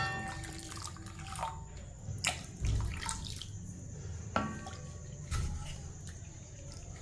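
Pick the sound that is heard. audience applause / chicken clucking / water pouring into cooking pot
water pouring into cooking pot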